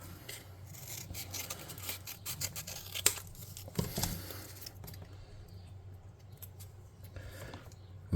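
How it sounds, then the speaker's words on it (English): Tabletop terrain craft material for a futuristic undercity TTRPG build is cut by hand, giving quiet, close snipping, scraping and rubbing sounds with a few sharper clicks, and no talking. "I'm going to cut this off."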